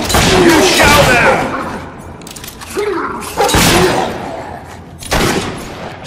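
Gunfire in the Fable III video game, a few sharp shots fired amid game effects, with voices talking over the action.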